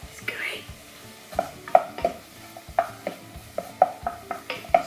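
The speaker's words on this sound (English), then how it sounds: "So we'll mix that nicely so the oil coats the onion and the garlic." Onion and garlic frying in oil while being stirred in a pan, with a series of sharp utensil scrapes and clinks against the pan over a faint sizzle.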